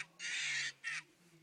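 Angry Birds plush toy letting out two squawking bird-call bursts from its sound chip, a long one then a short one, moderately loud and close, with no talking.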